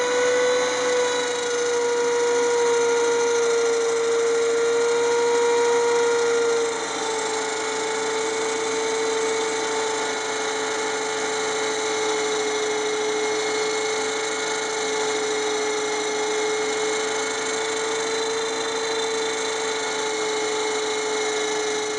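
A high-pitched whine of a Dremel cutoff wheel grinding steadily against a metal drill bit, continuous and close, with a slight drop in pitch partway through.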